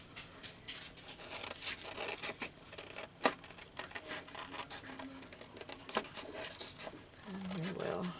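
Steel scissors snip through paper while cutting out a label for a junk journal, giving a run of close, scratchy crisp cuts and rustles with someone talking over them.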